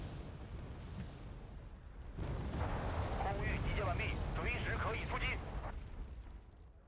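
Mortar fire in the video game Wargame: Red Dragon, a dense burst of booming launches and blasts that swells after a quieter stretch and holds loud for several seconds, with voices murmuring underneath.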